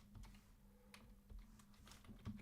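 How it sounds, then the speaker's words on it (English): Typing on a computer keyboard, a steady run of quick clicks and key taps at close range with a faint low hum underneath, no voices. "I'm typing on the second screen."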